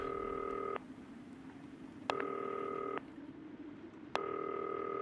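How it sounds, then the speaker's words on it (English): A telephone rings in the video game Not for Broadcast with three loud electronic trilling bursts, each about a second long and evenly spaced, over a steady background hiss with no talking. "Oh, I have to pick up the phone."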